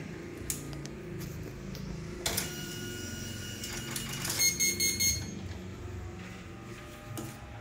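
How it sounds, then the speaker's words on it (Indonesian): An Epson LQ 2190 dot matrix printer runs a test page, its impact head buzzing and rattling in uneven bursts at close range, with a short run of bright electronic tones partway through. "Sekarang saya coba print test lagi, tekan pause."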